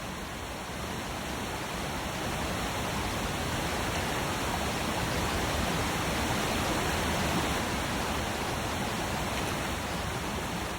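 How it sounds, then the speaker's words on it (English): A waterfall on the remote Aleutian Islands of Alaska pours with a constant, even roar of turbulent water, moderately loud and unbroken, with no voices. "The cubs no longer dare to go close to the waterfall"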